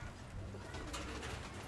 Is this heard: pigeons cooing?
yes